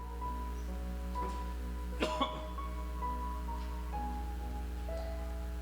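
A single short cough, close and sudden, breaks briefly through a steady low hum and faint background tones, with nothing else around it.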